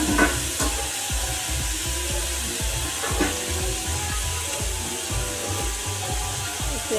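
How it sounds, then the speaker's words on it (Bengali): Chopped capsicum and carrot frying in a pan for homemade fried rice, a steady broadband sizzle with repeated scraping and stirring knocks throughout, fairly close and continuous. "এর মধ্যে আমি ক্যাপসিকাম কুচি আর গাজর কুচিগুলো দিয়ে দিচ্ছি, একসঙ্গে ভেজে নেব"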